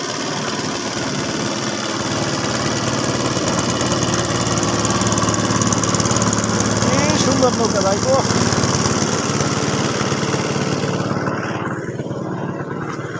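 Engine of a river boat carrying a motorcycle toward Dhaka, a steady droning putter running continuously at close range, with a voice speaking over it partway through.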